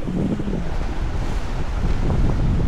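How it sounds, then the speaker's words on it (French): Strong wind buffets the microphone in a steady roar at sea on a sailing passage between Kea and Poros, Greece, with the wash of waves and open water underneath. "ce matin, vague importante, vent important"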